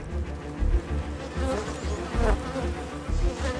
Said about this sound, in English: As the bees retreat, the hornet makes its move.